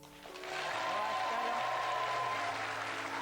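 An audience breaks into steady clapping that swells quickly and holds, fairly distant and uniform, with a faint tone lingering underneath.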